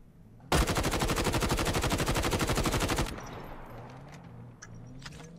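Automatic gunfire in the video game Call of Duty Mobile, a loud, sustained burst of rapid shots lasting about two and a half seconds, then quieter game ambience with faint distant noises.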